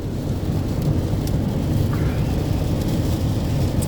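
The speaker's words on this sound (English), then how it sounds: "we managed to catch up to a line of storms" Heavy rain and low thunder rumble continuously around a car driving through a line of storms on the road to Florida, a dense steady roar with no voices.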